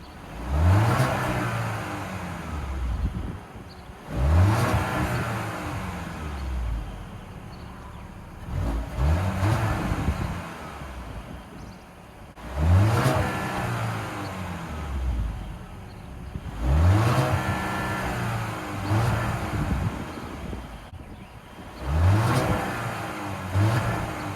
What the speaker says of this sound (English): I'll be revving it up just to show you guys the engine